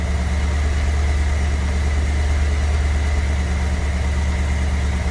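A rebuilt Ford Cammaster engine idles just after assembly, running at around a thousand rpm during its heat cycle, a loud, steady, even rumble that stays constant throughout with no talk.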